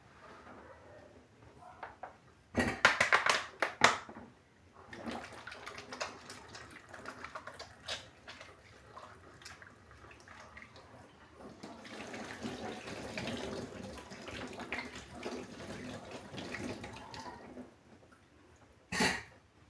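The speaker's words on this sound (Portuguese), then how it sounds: "Então, vamos lavar a mão." Running tap water splashes as hands are washed at a kitchen sink while making homemade bread stuffed with calabresa sausage, with a burst of louder splashing near the start and a steadier, moderate flow of water later.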